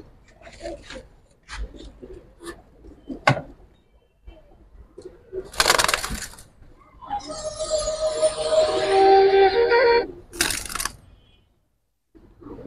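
Female giribaz pigeons cooing in a loft: soft, low coos with shuffling and flapping noises and a few sharp bursts scattered around them, close by.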